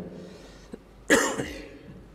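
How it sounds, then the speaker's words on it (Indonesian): A man coughs once in a short, sharp burst, with a weaker follow-up, indoors during a religious talk; nothing else is heard around it. "Mohon maaf ini agak batuk Pak ya."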